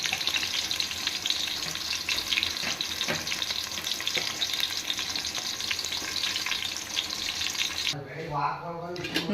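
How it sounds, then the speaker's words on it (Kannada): A pulao tempering with ground masala sizzles in hot oil in a pot, a steady crackling hiss with stirring noises, then a voice briefly speaks near the end. "ಇವಾಗ ಪಲಾವ್ ಒಗ್ಗರಣೆಗೆ ಹಾಕಿದ್ದೀವಿ"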